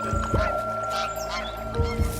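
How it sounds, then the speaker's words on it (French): Wild geese call briefly outdoors at dawn, a couple of short nasal honks over a steady background hum. "Nos oies sont déjà réveillées depuis l'aube"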